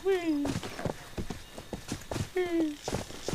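Horse hooves clip-clopping in the fantasy online game Rift, a steady run of close, crisp hoofbeats. Two synthetic whinnies rise over them and voices talk in the background.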